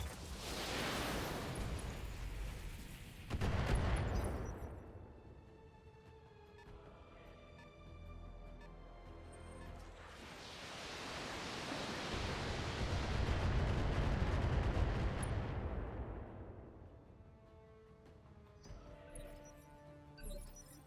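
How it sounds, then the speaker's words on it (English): Repeated missile volleys from BattleTech mechs in a video game: two long roaring bursts of rockets rising and swelling, with whooshing launches and crashing impacts, separated by a quieter stretch of metallic tones and hum. "Okay, that was a lot of missiles."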